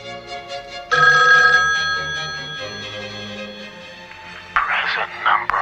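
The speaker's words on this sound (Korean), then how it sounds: "얼마 뒤 그녀에게 수상한 택배가 도착하고 그녀에게 또다시 전화가 걸려옵니다" A phone rings inside a home as a woman receives another call, the ring loud and sustained with harmonic tones over a low hum, then giving way to softer rustling and brief bursts of activity.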